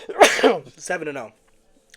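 A sharp sneeze bursts out close to the microphone during a sports podcast, followed by a brief spoken reply, then quiet.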